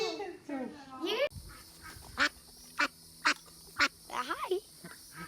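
A pet duck quacks in a series of evenly spaced sharp calls, close and loud, after a brief stretch where voices are heard.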